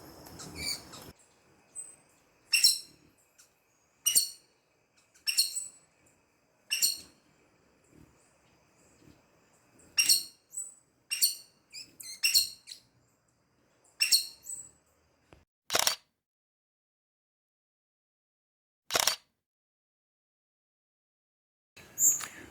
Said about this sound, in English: So the birds are definitely coming in to the feeder.